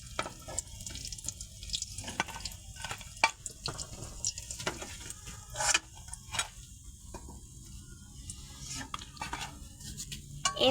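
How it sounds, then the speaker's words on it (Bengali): Eggplant fritters (beguni) fry in oil with a crackling, bubbling sizzle broken by irregular pops and clatters of handling, held close throughout. "এভাবে করে বাকিগুলাও এখন ভেজে নিব তেলে"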